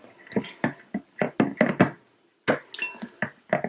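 A spoon stirs goat milk soap batter in a container, giving quick bursts of clinking and knocking against the sides with brief pauses between strokes.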